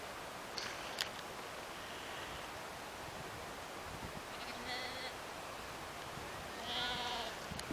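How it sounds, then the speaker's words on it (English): A sheep at Graves animal park in Sheffield bleats faintly a few times in the distance, with the calls set against steady outdoor background noise at a farm park. "So as always, you've got the obligatory sheep."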